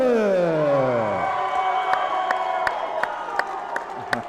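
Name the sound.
crowd cheering and clapping at a fight event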